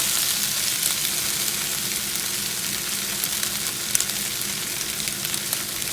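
Jambalaya fries in a pan while being stirred, giving a steady close-up sizzle with faint scraping and occasional soft pops, no voices.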